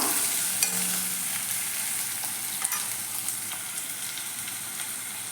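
Onion sautéing in oil with ginger and garlic for a bitter gourd masala, an even, moderately loud frying hiss with occasional light ladle taps and scrapes.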